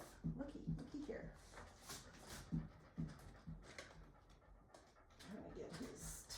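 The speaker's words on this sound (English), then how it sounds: "Trying to get his tongue, which is changing depending on how much he's panting" A dog pants nearby in quick uneven bursts of breathy huffs, with some soft shuffling. A person talks quietly over parts of it.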